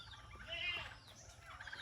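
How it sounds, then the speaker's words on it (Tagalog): Turkeys gobbling and squabbling, agitated calls rising and falling over a low background hum, fairly faint. "Nagsasabong yung pabo"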